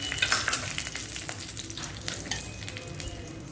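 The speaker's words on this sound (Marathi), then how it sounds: "थोडे शेंगदाणे घालू काजू काजूचं काप घालून" Peanuts and cashew pieces fry in a pan with curry leaves for upma, a steady close sizzle with crackling pops and stirring scrapes.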